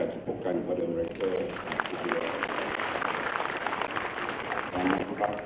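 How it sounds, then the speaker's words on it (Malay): An audience at a political party general assembly (PAU 2012) applauds with a continuous, moderate wash of clapping. A voice speaks over it throughout. "Datin Pati Ketri Osman Mansur, kita berikan tepukan kepada mereka."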